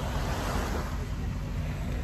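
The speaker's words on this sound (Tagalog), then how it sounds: "Ako lang yung nandito sa, ano, sa dagat." Sea waves wash steadily onto a beach at low tide, a continuous loud roar of surf mixed with wind buffeting the microphone.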